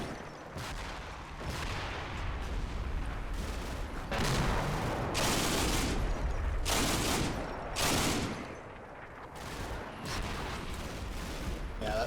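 Gunfire from a World War II tactical video game, aimed at a Hellcat tank destroyer: repeated loud bursts of rifle and machine-gun fire in irregular clusters, with mechanical clatter between volleys and some talk underneath.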